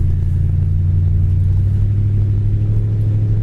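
A 1964 Ford Galaxie with 71,000 miles cruises at 35–40 mph, giving a steady, close, low engine and road rumble inside the cabin with no talking.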